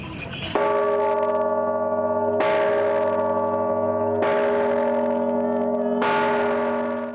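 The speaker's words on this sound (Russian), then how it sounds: "А пока свой первый благовест он подарил всем присутствующим на празднике." A newly installed church bell at a cathedral rings its first peal during a festive procession, four loud sustained strikes about two seconds apart, each leaving a long humming tone that carries into the next, with no voices.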